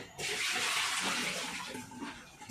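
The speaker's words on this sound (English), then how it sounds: "we need to put aside this washcloth and we need to drain this water here" Water rushes steadily out of a bed bath basin, a continuous loud hissing splash that holds for over two seconds and tapers slightly, with no talking.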